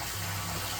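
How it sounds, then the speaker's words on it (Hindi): Water poured into a snake hole in the ground gushes in a steady, continuous rush, close and fairly loud, over a brief moment with no voices. "पानी देला से थोड़े निकलते यो।"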